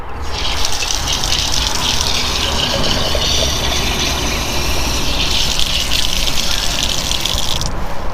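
Water gushing into a container, a loud, steady rushing and hissing that runs throughout, close by and without talk.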